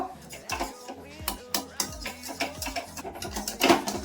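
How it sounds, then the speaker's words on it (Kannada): A block of cheese melts in a pan for kunafa while a utensil stirs it, giving close, repeated clinks and scrapes against the pan under a speaking voice. "ಇದು ಚೆನ್ನಾಗಿ ಬ್ಲೆಂಡ್ ಆಗಂಗೆ ಮಿಕ್ಸ್ ಮಾಡ್ಕೋಬೇಕು"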